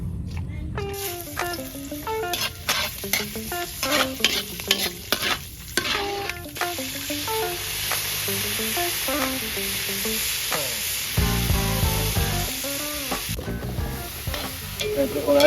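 Kalabasa squash sautés in a pan with a loud, steady sizzle, broken by frequent clattering, scraping stirs of a spatula close up.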